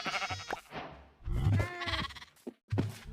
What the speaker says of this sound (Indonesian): Tapi kita musnahkan dulu domba-domba ini biar nggak ganggu pemandangan, Jin.